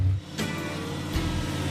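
A Chevrolet Impala drag car pulls hard at wide open throttle, its engine a loud, steady, low roar close by that holds under load for the whole short stretch.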